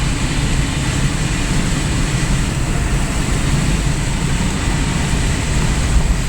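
Steady loud rumble of a train running, a continuous roar of wheels and engine with no breaks or voices.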